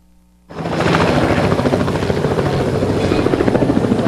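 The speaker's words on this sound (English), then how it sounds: "No, it's a red helicopter." A red tour helicopter flying close by, its rotor thumping loud and steady after a sudden start, with a faint voice under the engine noise.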